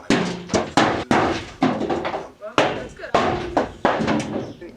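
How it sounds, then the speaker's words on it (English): Gum nuts dropping onto a roof, a series of loud, sharp knocks and thuds at uneven intervals, each with a short rattling decay, close and prominent. "gum nuts being dropped on the roof"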